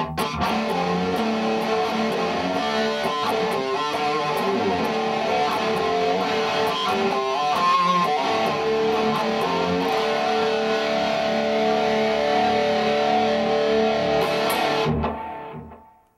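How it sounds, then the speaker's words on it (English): A distorted electric guitar plays a sustained, layered passage with a shimmering chorus and echoing delay, loud and steady before it cuts off near the end. "Here's some distortion with a little bit of chorus and delay."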